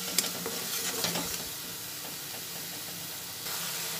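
Chhena (fresh cheese curds) being stirred in oil in a pan, a steady soft sizzle with scraping stir strokes, louder in the first second and a half, then settling to an even hiss, no talk.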